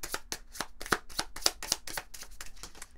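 Oracle cards being shuffled by hand: a quick series of crisp, papery riffles and taps in an irregular rhythm, close to the microphone and alone without talk.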